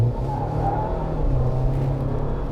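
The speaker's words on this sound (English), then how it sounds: "spinning the 37s on dry pavement, that's pretty impressive for the little 4-banger" A truck with a small four-cylinder engine spins its 37-inch tires on dry pavement, a loud, steady low roar of engine and tire scrub heard close up for a few seconds, with no talking.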